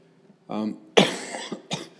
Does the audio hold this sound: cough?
yes